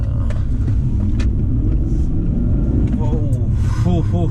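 A 2002 BMW 540i E39 with a V8 pulls hard under acceleration, its loud, deep engine rumble filling the cabin as it shifts into second gear, with a voice briefly audible over it near the end.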